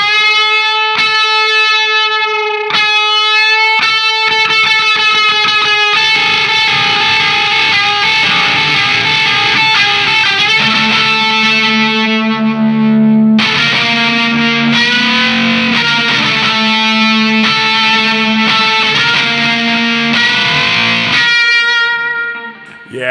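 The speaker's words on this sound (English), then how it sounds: "That really, for that kind of like metal high gain kind of feel to it, that is killer." Electric guitar run through an LSL Vital DS distortion pedal at high gain, metal style: loud saturated chords and sustained notes ringing out continuously with dense harmonic buzz, no talking.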